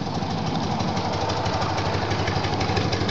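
A warmed-up 1972 BMW R75/5 motorcycle engine idles with the choke off, a close, loud, steady pulsing chug with even knocking beats throughout.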